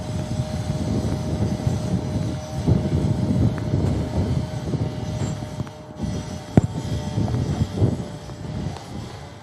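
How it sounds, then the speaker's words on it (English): An EasyJet Airbus A320 with sharklets, arriving from Bordeaux on approach to Manchester Airport in Storm Claudia, gives a steady broadband engine roar mixed with wind and rain noise. "There is an EasyJet about to enter the approach."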